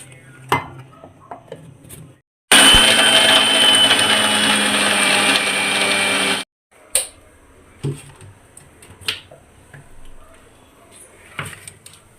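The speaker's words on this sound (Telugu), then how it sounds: "ఇప్పుడు వీటిలన్నిటిని కలిపి మనం మిక్సీ పట్టేసుకుందాం." A mixer grinder blending lassi whirs loudly for about four seconds, bracketed by kitchen clinks and handling sounds before and after.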